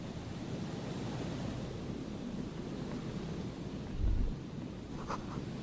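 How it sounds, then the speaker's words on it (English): Strong wind in Disco Elysium, a steady broad roar and rush that runs without pause, with a brief low thump partway through. "The wind is so strong."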